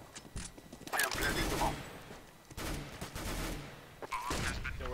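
Bursts of gunfire ring out during a Counter-Strike: Global Offensive match, with sharp shots and rattling volleys in irregular clusters, up close and loud, mixed with game sound effects.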